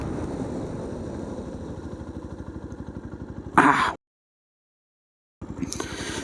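A Yamaha FZ-S V4 motorcycle engine thrums steadily and close during a front brake test ride. A burst of wind noise follows, then near-silence, then the engine returns.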